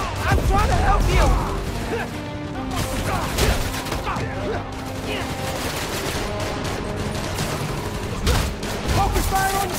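Sustained gunfire from a Marvel's Spider-Man: Miles Morales battle against Rhino, with rapid rattling volleys and booms under shouting voices and a busy layer of game music and effects.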